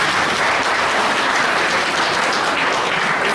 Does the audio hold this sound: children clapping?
yes